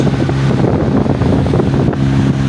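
A boat heading out to sea from the shore, a loud steady engine rumble mixed with heavy wind buffeting the microphone and the wash of water.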